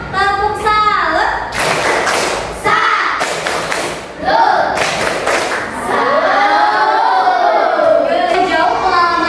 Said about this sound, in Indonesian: Tepuk salut dulu dong untuk kita semua.